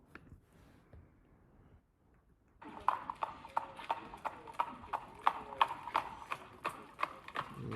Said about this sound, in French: On observe une boiterie des deux sabots alors que la ferrure était la même et le fer était un fer elliptique double.